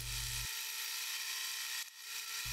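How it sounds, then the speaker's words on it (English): A drill bores holes in steel rails for a ute tray, giving a steady loud whine that cuts off briefly near the end before resuming. "I'm just drilling out the holes"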